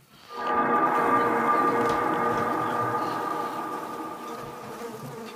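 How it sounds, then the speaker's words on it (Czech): A swarm of flies buzzes in the horror game Layers of Fear 2, a loud, droning hum that swells in quickly and holds steady, fading slightly, with no voices over it. "Co to je mouchy?"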